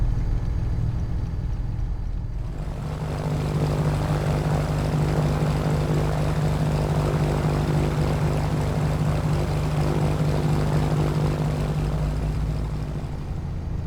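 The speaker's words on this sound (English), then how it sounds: "have a listen to the external sounds from the aircraft" A Piper PA-28R Turbo Arrow propeller aircraft engine drones loudly and steadily, a constant throbbing hum that swells in after a quieter first couple of seconds, heard from outside the aircraft before departure.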